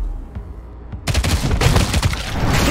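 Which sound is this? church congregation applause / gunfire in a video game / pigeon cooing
gunfire in a video game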